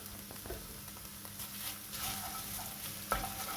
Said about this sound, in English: Cook out that puree.